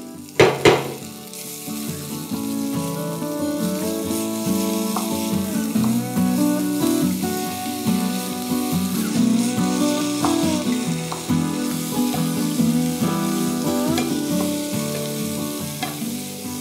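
Chopped vegetables fry in plain butter, giving a steady close sizzle with occasional stirring scrapes and pan knocks, all under continuous background music.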